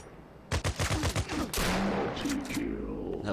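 Shotgun blasts in a first-person shooter on a crypto play-to-earn game: a rapid string of six or seven loud, punchy shots followed by a heavier booming burst and rumbling tail, with no talk.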